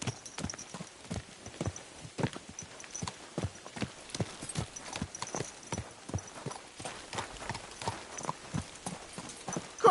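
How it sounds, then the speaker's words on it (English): Horse hooves clip-clop steadily on a road in the medieval video game Kingdom Come: Deliverance II, a brisk, close, evenly paced run of sharp knocks that carries on alone throughout. "Watch out with that horse!"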